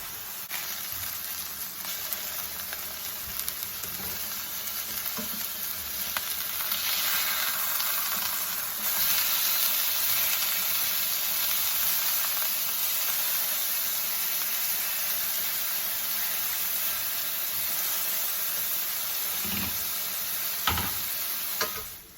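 Ground turkey steak patties searing in a pan on medium-high heat, a long even sizzle with faint ticking pops, steady and close, growing slightly louder midway, with no speech.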